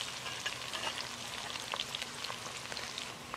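Whole spices, including allspice and cumin seeds, fry in a pot over an outdoor coal fire for curry goat, giving a soft, even crackle and sizzle like light rain, with faint scattered pops and no talking.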